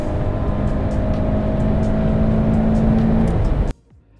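A car accelerates hard and steadily through the gears, its engine loud and close with a sustained, rising drone, then cuts off abruptly near the end.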